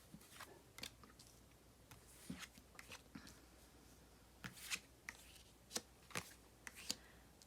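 Tarot cards being shuffled close by, a faint series of soft papery riffles and taps spread irregularly across the stretch, quiet and with no talk.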